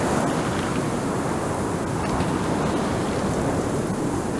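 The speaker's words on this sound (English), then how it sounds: "I can't hear you over the wind" Wind and ocean surf roar steadily in the Sons of the Forest survival game, a dense, even wash of broadband noise with no breaks and no voices.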